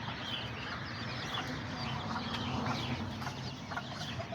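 Chickens and a small rooster clucking in a backyard flock, a steady murmur of overlapping soft clucks under a constant hissy background, fairly distant and low in level throughout.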